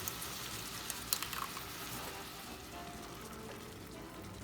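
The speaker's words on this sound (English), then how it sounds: "Saute this for 2 minutes" Currywurst sauce with paprika, ketchup and tomato sauce sautéing in a pan, a soft continuous sizzle and patter with a few brief clinks, quiet and unbroken.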